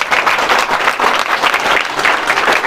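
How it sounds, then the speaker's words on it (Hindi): A crowd at a ceremony honouring Class 12 students applauds with dense, continuous clapping, loud and sustained throughout, with a voice faintly present beneath. "जोरदार तालियों से स्वागत कीजिए एक बार फिर"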